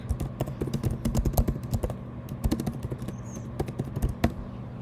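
Steady typing on a computer keyboard while writing a message in Slack: close, crisp key clicks in quick irregular bursts with short pauses, continuing for several seconds with no talking.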